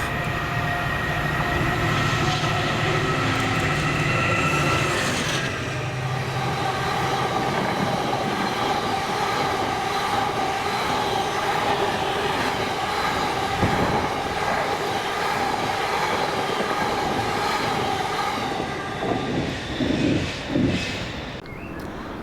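Freight train of tank wagons, the Dalston to Grangemouth service hauled by locomotive 7815, rumbling past steadily with continuous wheel clatter and a droning engine, loud and sustained throughout.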